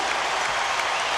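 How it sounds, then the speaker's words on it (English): Basketball arena crowd applauding and cheering steadily at a Lakers vs Sacramento NBA game, a dense, loud wash of clapping that holds without pause throughout. "This crowd is alive. It's been electric from the start."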